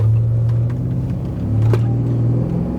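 A Porsche Cayenne Turbo S engine rumbles steadily as it accelerates, with a low drone rising and easing inside the cabin as the turbos kick in.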